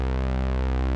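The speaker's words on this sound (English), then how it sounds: "This is the sound of the sawtooth on the Poly 6." Sawtooth wave from a Poly-6 analog polysynth with cutoff and resonance turned off, a single loud sustained buzzy note held steadily for about a second before cutting off abruptly.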